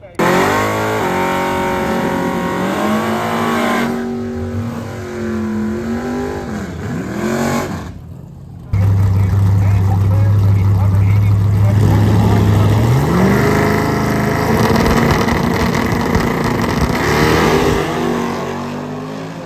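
Drag race cars thunder down a prepped strip, engines roaring loud and close with rising revs, a brief near-silent gap, then a heavier, deeper engine blast that climbs in pitch as the car launches.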